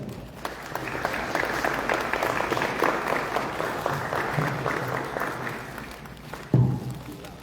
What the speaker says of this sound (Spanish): fuertes aplausos a él.